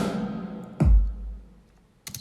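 A synthetic modular kick layered with a sampled kick and snare hits once hard with a deep booming low tail, preceded by a fading tonal wash and followed by a sharper snare-like crack at the end, no voices.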